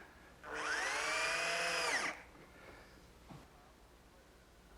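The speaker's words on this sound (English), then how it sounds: "I'll fasten it in place using some 1-inch drywall screws" A power drill drives a 1-inch drywall screw into an oak cabinet, giving one loud whining burst of about a second and a half that winds down, followed by faint handling clicks.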